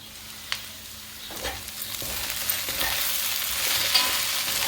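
Okra and baby corn stirred in a hot pan for a bendakaya fry, scattered spatula scrapes and clicks over a low, steady sizzle that thickens toward the end, close by.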